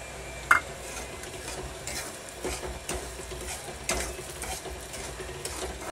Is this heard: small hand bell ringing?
no